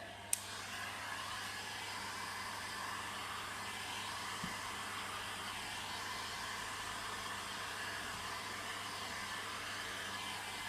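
Heat gun shrinking Halfords window tint film, blowing a steady whooshing hum at an even level throughout, close and alone apart from a faint tick near the start.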